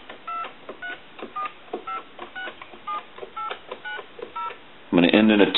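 Touch-tone keypad beeps from a Conairphone Metropolis telephone under repair, a steady run of short, evenly spaced dialing tones, ending in a louder burst of talk.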